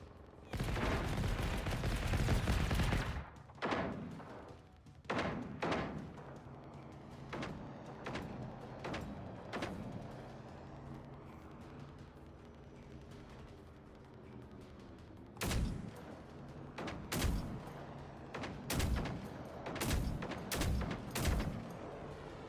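Rocket launcher fire in a video game, aimed at a flying enemy: a long opening blast followed by a series of sharp, separate booming shots spaced irregularly, with a quick cluster near the end.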